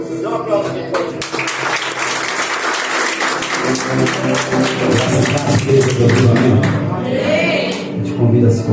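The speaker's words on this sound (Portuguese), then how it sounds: "Dá uma aplauso aqui, pode." A congregation applauds during an evangelical church service in Bauru, Brazil, with sustained clapping throughout, joined by scattered voices and cheers from the crowd.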